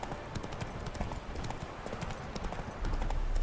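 Hooves of the horse from the video game Witcher 3 thud in a quick galloping rhythm over a steady game ambience, fairly soft and even throughout with no voices.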